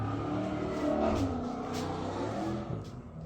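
A car drives past on a nearby road, its engine a steady rumbling roar that swells and slowly fades over a few seconds, with no talking.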